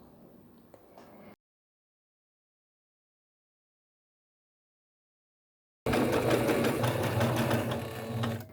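A sewing machine stitching fold-over elastic onto fabric, starting briefly, cutting to silence, then running again as a loud, steady, close whirring hum.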